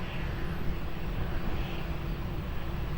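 An aircraft takes off at Lisbon Airport, giving a steady, moderately loud engine roar with a broad rumbling low end. It is brief and continuous, with no voices.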